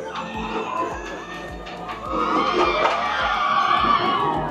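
Riders on the Flying Dinosaur roller coaster at Universal Studios Japan scream as a new batch launches, a dense crowd of shrieks and whoops rising louder halfway through over a steady rumble of park noise.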